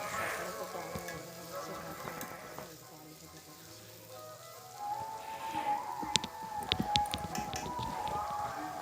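Potatoes frying in a home kitchen, a soft sizzle with intermittent sharp pops and stirring clicks, quieter in the middle then busier toward the end, with faint background sounds.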